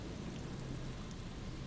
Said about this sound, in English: It's raining again, Kim.